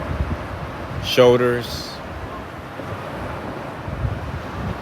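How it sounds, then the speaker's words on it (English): Wind and surf on a beach roll on as a steady, soft broadband wash, briefly overlaid by a single spoken word near the start. "Let us focus on the sound of the waves"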